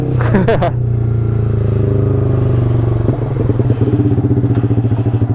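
An NMAX motor scooter engine runs close by, opening with a brief clattering burst, then settling into a steady idle that turns into a rhythmic, pulsing throb near the end.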